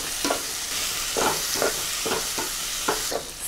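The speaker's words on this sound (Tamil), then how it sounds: "தக்காளி போட்டு நல்லா செவந்த வரைக்கும் வதக்கணும்" Tomatoes and green chillies sautéing in a pan for mullet fish curry sizzle steadily, with repeated spatula scrapes and stirs at a loose, even rhythm close by.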